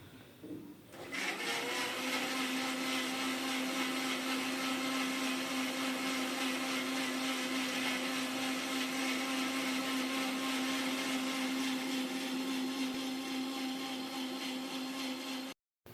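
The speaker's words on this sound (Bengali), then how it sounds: "এখন আমি ঢেকে দিয়ে ব্লেন্ড করে নেব।" A blender whirs loud and steady for about fifteen seconds as it blends grape and carrot juice, starting after a brief quieter moment and cutting off abruptly near the end.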